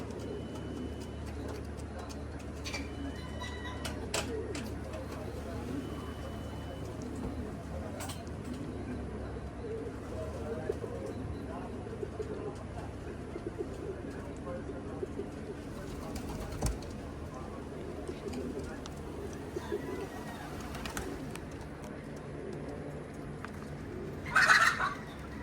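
Soft, low pigeon cooing repeats in the background amid outdoor ambience at a racing pigeon loft, with occasional faint voices and a brief louder sound near the end.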